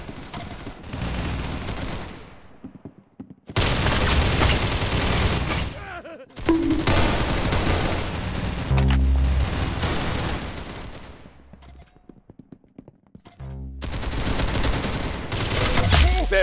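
Rapid automatic gunfire from the Roblox shooter game Arsenal comes in loud sustained bursts separated by brief silent pauses, with a few short game sound effects between them.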